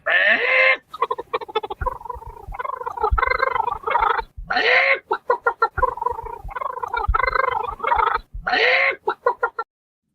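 A chicken clucks loudly and close by in a rapid, choppy series of squawks and throaty clucks, with several higher drawn-out calls breaking up the bursts.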